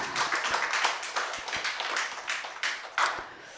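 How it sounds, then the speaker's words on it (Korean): An audience claps in a church service, a brief, fairly faint burst of scattered handclaps lasting a few seconds. "여러분 박수 한번 치세요."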